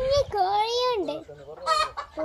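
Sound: chickens clucking

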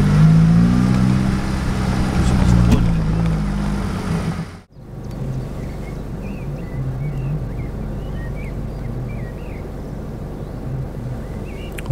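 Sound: car driving off the highway toward canyon

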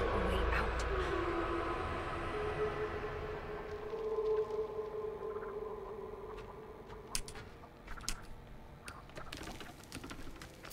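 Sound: Grandpa's scream in The Texas Chainsaw Massacre video game, train-like

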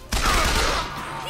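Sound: gunfire in Bioshock Infinite video game

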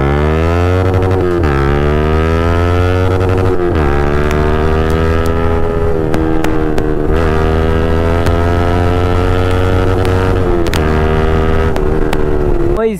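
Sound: KTM RC 390 motorcycle engine and exhaust running

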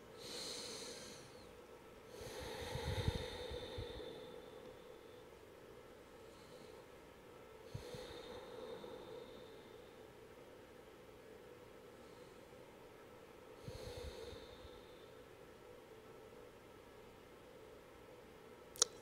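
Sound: breathing in and out through the nose during yoga

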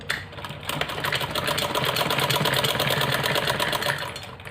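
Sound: sewing machine stitching two fabric strips

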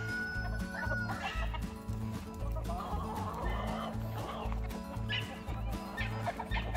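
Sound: chickens clucking

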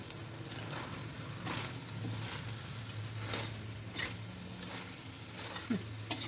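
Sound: meat frying with onions and peppers

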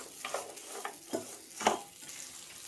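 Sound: okra frying in a pan with chili powder

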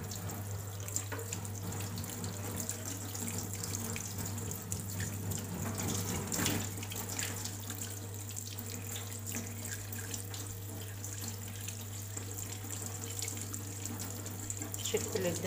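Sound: tap water running while washing fish

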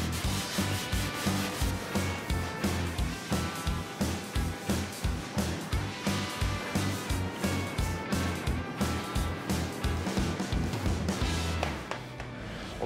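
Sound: hand sanding car body primer with 180 grit on long sanding block

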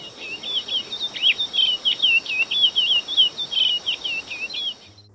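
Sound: song of hybrid bird, curió crossed with chorão seedeater

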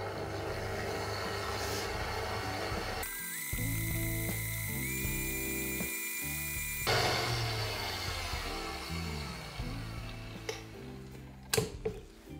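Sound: mixer beating butter and cocoa powder dough at low speed

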